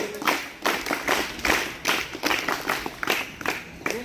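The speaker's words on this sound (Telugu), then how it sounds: "మిగతా ఉపాధ్యాయ ఉపాధ్యాయుల బృందాన్ని కూడా వేదికపైకి రావాల్సిందిగా కోరుతూ" An audience applauds at a former-students reunion in Vaddepalli village ZPHS high school, Varni mandal, Nizamabad, welcoming teachers onstage: loud, irregular clapping in uneven bursts, fairly close, with no talk over it.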